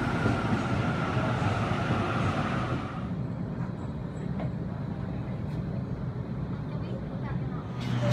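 A train runs at a Sydney station platform, a steady loud rumble of rolling wheels that drops and thins partway through, with brief clanks and a hiss near the end.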